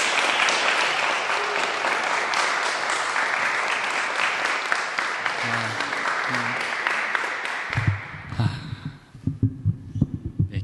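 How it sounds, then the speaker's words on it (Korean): A church congregation at a Korean Sunday worship service claps to welcome the pastor, a dense even applause that thins out near the end, followed by a few faint bumps and low knocks as it dies away. "우리 박수로 환영하도록 하겠습니다"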